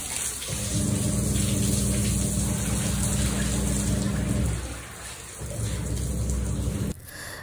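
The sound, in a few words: water poured from a hose onto stairs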